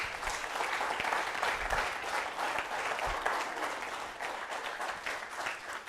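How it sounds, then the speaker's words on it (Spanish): A church congregation breaks into sustained applause for the king, dense hand clapping filling the room at a moderate, distant level without pause. "Dale un aplauso al rey."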